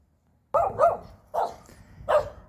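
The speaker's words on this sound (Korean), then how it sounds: "여기에서도 또 외지인이 오니까 멍멍멍멍 짖고 있어요" A village dog barks at a stranger in a rural neighbourhood of Asan, South Korea: a close double bark followed by two more single barks, loud and sharp against a quiet background.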